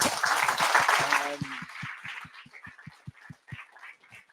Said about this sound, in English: Another round of applause for Martin.